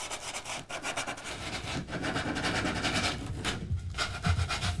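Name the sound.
sanding off burred edges of cut wood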